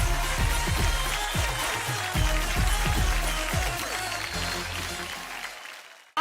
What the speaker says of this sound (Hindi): अजय देवगन, अभिषेक बच्चन, संजय दत्त, तीनों के लिए जोरदार तालियां हो जाए